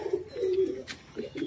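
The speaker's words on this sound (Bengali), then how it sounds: "এবার আপনারা দেখতে পাচ্ছেন আরেক জোড়া পায়রা" A pair of pet pigeons of the fulshira jiriya type, kept for sale, give a few soft, low coos close by, in short repeated bursts over quiet background noise.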